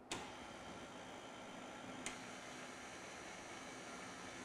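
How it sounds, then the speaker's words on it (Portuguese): A quiet, steady whir comes from an electric stand mixer beating biscuit dough at medium speed. The drone is unbroken, with two faint clicks near the start and middle. "A velocidade da minha batedeira é velocidade média."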